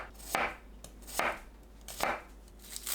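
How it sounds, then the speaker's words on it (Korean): A knife slices garlic cloves into thin slices on a cutting board. Four crisp, close strikes come at an even, unhurried pace against near silence. "마늘은 편 썰어주세요."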